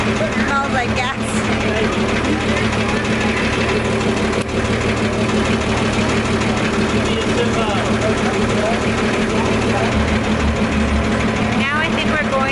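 A loud boat engine drones steadily and close throughout a cramped ride on a boat in Cairo, Egypt. The deep, rumbling roar never lets up, with voices faintly mixed in.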